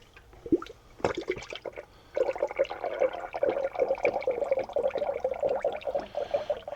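Antifreeze glugs and splashes through a large pour funnel into the radiator of a 2007 Jeep Liberty, starting with a few separate drips then settling into a steady, gurgling pour up close.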